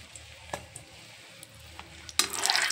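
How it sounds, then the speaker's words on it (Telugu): Eggs fry in three spoons of oil in a pan, giving a quiet sizzle with a few soft clicks before a louder burst of hissing spatter near the end. "ముందుగా 3 స్పూన్లు ఆయిల్ వేసుకొని గుడ్లు పైన పెట్టుకున్నాం."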